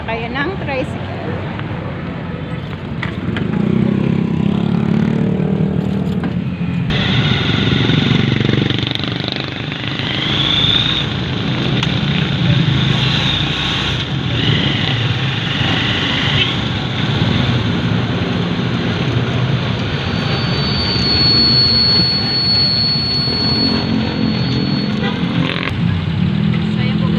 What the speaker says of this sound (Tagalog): So yun po guys, kami sasakayan ng tricycle.